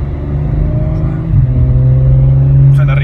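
A 400-horsepower Audi engine revs up close, a steady loud drone that climbs in pitch partway through, with people talking over it.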